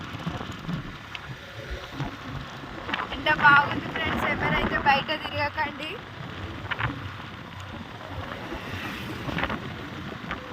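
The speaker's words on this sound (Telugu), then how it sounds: "గాలి కూడా బాగా వీస్తుంది" Wind rushes and buffets the microphone in uneven gusts while someone talks over it.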